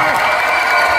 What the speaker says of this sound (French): Bravo à tous les cosplayers. Applaudissez-les bien fort, s'il vous plaît.